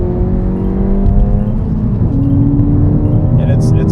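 A 2016 Ford Fiesta ST on 205/17 tires drives steadily with a continuous engine drone and tire roar, rising and shifting slightly in pitch, loud and close from inside the car.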